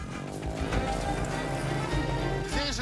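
Busy street traffic in a Pakistani desert town with donkeys, mopeds, cars and motorbikes: a dense steady mix of engines and rhythmic clip-clopping hooves, close and continuous.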